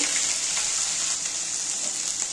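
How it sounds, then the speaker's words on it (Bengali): A ginger, cumin, chili and garlic spice paste fries with salt in a pan. It gives a loud, close, continuous sizzle with a steady hiss throughout and no talk. "এবার ভালো করে কষিয়ে নেব"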